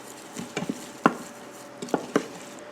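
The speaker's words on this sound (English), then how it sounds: "I'm going to go ahead now and mix this up and cook it down" Lasagna ingredients with basil being stirred in an Instant Pot, giving a few scattered knocks and scrapes of a utensil against the pot, close and irregular with quiet gaps between.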